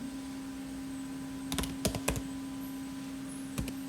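A name typed on a computer keyboard, with a handful of faint, crisp key clicks in a short burst and a couple more after a pause, over a steady low electrical hum.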